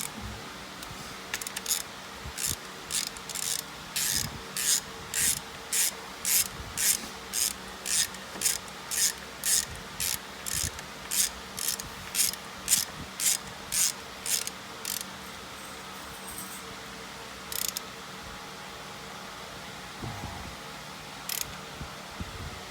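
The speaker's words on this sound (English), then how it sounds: "now I'm gonna tighten it the rest of the way with the ratchet" A ratchet tightens a bolt on a Jeep Liberty during radiator and tensioner pulley work, clicking in a quick, even series of about twenty close strokes, then a few scattered clicks after a pause. No talk.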